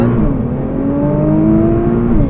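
A 2017 Nissan R35 GT-R Premium launching and accelerating hard, its engine note climbing steadily in pitch as it pulls through the gears, close and loud with no talking.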